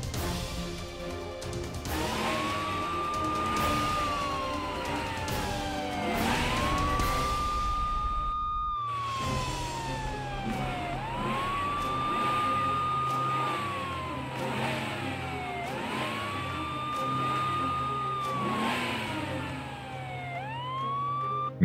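Toy ambulance siren wailing in repeated rising and falling sweeps, close and continuous, with a clattering toy motor and plastic knocks at the start before a brief pause and steadier running hum.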